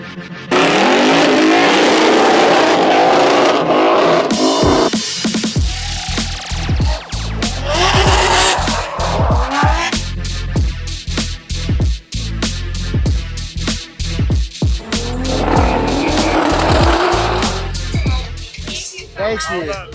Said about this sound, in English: I take back what I said. That is a badass truck.